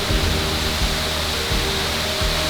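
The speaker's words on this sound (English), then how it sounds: "really beautiful waterfall here. And as I said, it's quite powerful at the moment" Loud, steady roar of a powerful waterfall in Austria, swollen by days of rain, broadband rushing water filling the whole clip with no voices.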